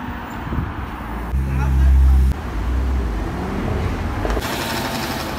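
A Ferrari sports car rumbles past on a Casablanca street amid steady traffic noise, with a strong low engine tone swelling briefly in the middle; a voice speaks over it.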